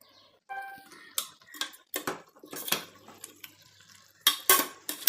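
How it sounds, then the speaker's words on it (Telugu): A spoon stirs a goat head curry mixture coated in masala, making repeated close metallic scrapes and clinks against the pot in an irregular rhythm, with a quiet gap before the strokes start. "ఈ మసాలా అంతా దానికి పట్టే విధంగా బాగా కలుపుకోవాలి."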